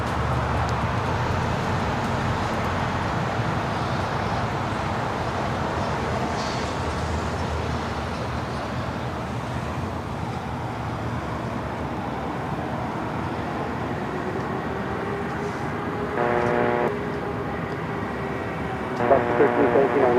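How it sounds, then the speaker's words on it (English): An Airbus A380 jet takes off at LAX with a continuous loud, broad engine roar that holds steady throughout, alongside faint distant background noise. "we do have the A380s taken off here right in front of our camera"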